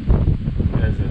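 Gusty outdoor wind during a corn harvest buffets the microphone in a brief, low, rumbling burst of uneven whooshing.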